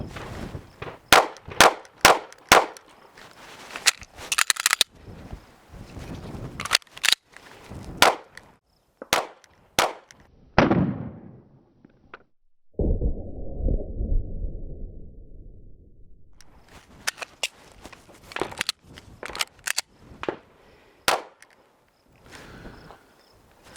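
Live-fire pistol drill with a planted double-feed malfunction: a rapid string of sharp, loud shots, a pause with clatter and a sliding rasp, then another quick volley of shots.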